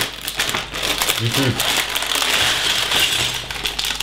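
Plastic bags of LEGO bricks crinkle and rustle continuously up close while being handled and opened, with a person speaking briefly over the noise.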